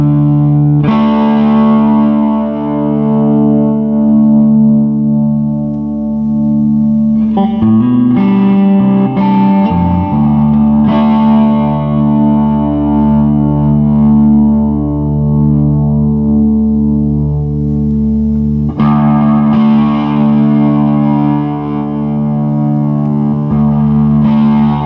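A Reverend Flatroc electric guitar plays heavily distorted chords and sustained notes through a Laney LC30-II amp's distortion channel, thick and buzzing, with a short palm-muted pause midway.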